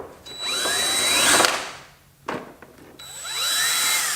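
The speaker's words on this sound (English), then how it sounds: "I'm gonna try and line up the holes up here and drill some holes so we can put nuts underneath." A cheap hole saw drills holes during a budget turbo LS engine build, whining in two loud bursts with a brief spike between them as the bit bites and spins down and up again.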